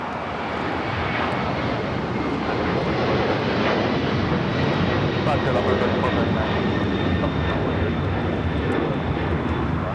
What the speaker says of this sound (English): 2479 taking off to Lima, Peru on the 767-300ER.